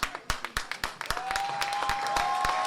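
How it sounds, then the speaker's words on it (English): Scattered applause for four wrestlers after a tag-team match between the American Wolves and the Motorcity Machine Guns, with individual sharp claps at first that thicken into steadier crowd clapping, plus a faint sustained tone. "another round of applause for these 4 gladiators"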